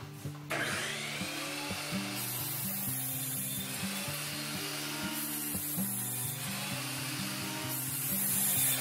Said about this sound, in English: we're cutting a 2x4. We're getting a lot of dust.